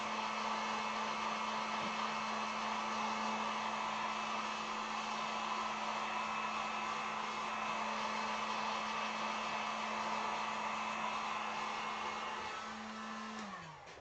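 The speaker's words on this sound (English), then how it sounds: "So I'm just going to throw the heat gun on this real quick" Heat gun drying acrylic paint on a wooden sign, a loud steady blowing whir with a constant motor hum that holds evenly before winding down at the end, no talking.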